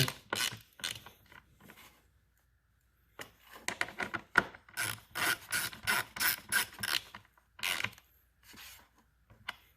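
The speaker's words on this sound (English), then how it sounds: "Got the T30 on the 1/4 inch ratchet. Tighten those bad boys back down." A quarter-inch ratchet with a T30 bit drives bolts back down on a 2019 Husqvarna Svartpilen 401 around plastic parts, giving bursts of rapid close pawl clicking separated by short pauses, with no talk.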